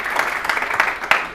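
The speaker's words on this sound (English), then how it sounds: "Let's have a second round of applause," An audience gives a brief burst of applause after a presentation, with steady clapping from many hands that is cut short after about a second.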